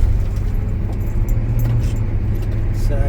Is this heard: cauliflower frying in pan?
no